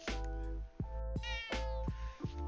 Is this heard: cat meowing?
yes